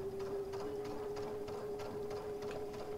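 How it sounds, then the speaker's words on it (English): A serger sewing machine runs steadily while stitching darts and pockets in fabric, giving a continuous mechanical hum with a faint rhythmic ticking. It is close and moderately quiet, with no talk over it. "just sew off, there you go"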